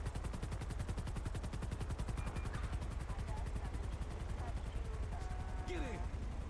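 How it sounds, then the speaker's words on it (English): A helicopter in the LSPDFR police video game thumps with fast, steady rotor beats, loud and continuous throughout, with brief radio-like tones near the end. "Oh, you even have a helicopter, isn't that nice?"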